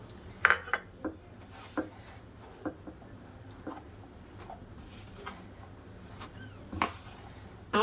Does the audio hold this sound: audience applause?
no